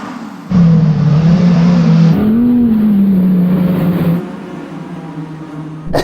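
Audi R8 quattro on winter tyres launching hard on snow, loud engine droning and rising steadily in pitch as it accelerates, close up with no talk.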